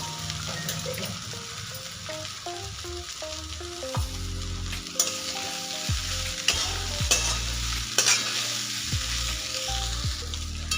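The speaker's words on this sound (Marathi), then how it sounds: "आता आपण पोहे टाकून घेऊया याच्यामध्ये." Poha tossed into a pan of hot oil on a medium gas flame for kanda poha, sizzling steadily while a spoon scrapes and stirs in repeated strokes, with several sharper clinks against the pan.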